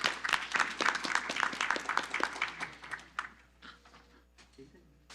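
Applause at a city council meeting: a small room of people clapping, dense and fairly close at first, then thinning to scattered claps as it fades.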